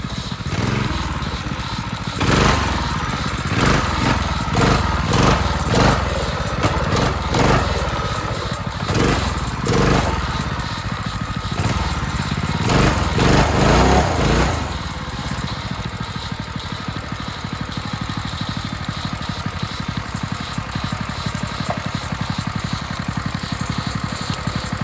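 A Predator 212 engine on a mini bike, revving in rapid uneven bursts for several seconds and then settling into a steadier rumbling idle, loud and close, with no talking.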